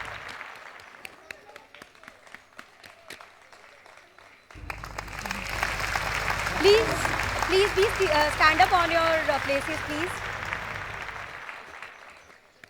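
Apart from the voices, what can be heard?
audience applause at school alumni meet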